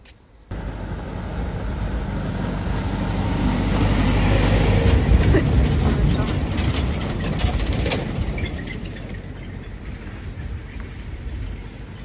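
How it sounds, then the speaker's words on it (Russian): A small children's train rumbles past at a holiday resort, its noise swelling to a peak midway and then fading as it moves off, with no talking. "Вот едет поезд."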